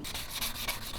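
Sanding car bodywork ahead of primer coats on a rust repair, a steady close rasping rub with slight rhythmic strokes, heard alone.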